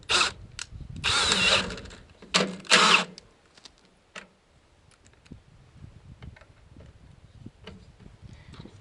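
A power drill drives screws to mount a trailer plug on a 1986–91 Suburban, with two or three short loud whirring bursts up close, followed by quiet ticks and small handling sounds.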